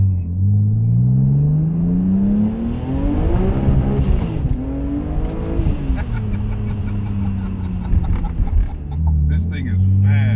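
A 570 wheel-horsepower supercharged BMW E46 M3 running on E85, roaring hard through rapid upshifts, its engine pitch climbing and dropping with each quick gear change, heard from inside the car while people talk over it.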